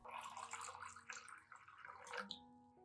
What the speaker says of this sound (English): He finally add 1 liter of clean water to dilute the solution.